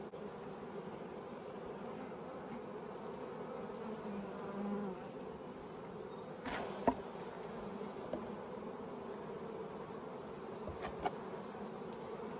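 Honey bees buzz around their colonies, started from early packages, in a steady, dense drone that holds for the whole stretch, with a few faint clicks and no voices.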